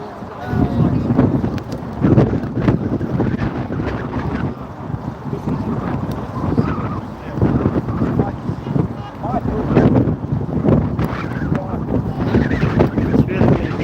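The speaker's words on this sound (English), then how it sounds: "It's really windy today." Strong gusts buffet the microphone at an outdoor farmers' rally in Preston, a loud, low, uneven rumble that swells and dips throughout, with voices talking under it.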